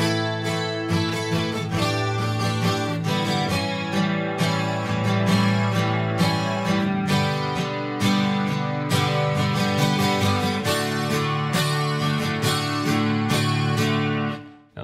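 Guitar slowly strums the first chorus of a song, with full ringing chords in a steady, relaxed rhythm that fills the clip alone before fading at the end.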